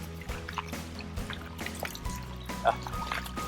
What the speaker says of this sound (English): Oh, it's a little stream. Yeah, nice clear water stream.